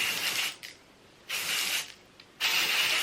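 Dry shampoo sprayed from an aerosol can into hair, three close hissing bursts of about half a second each separated by short pauses.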